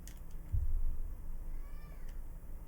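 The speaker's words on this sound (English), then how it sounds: "It's just a cat." A cat in a horror video game gives one short meow amid dim game ambience, with a faint, fluttering sound near the end.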